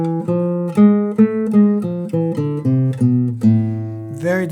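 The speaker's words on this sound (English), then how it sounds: "And now we're going to play the A harmonic minor scale," Classical guitar runs through the A harmonic minor scale as a steady sequence of single plucked notes, close and clear with no voices, each note ringing briefly into the next.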